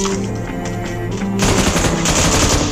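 Rapid automatic gunfire from the mobile battle-royale game PUBG Mobile, loud and dense, with bursts growing heavier and more sustained partway through, no talking over it.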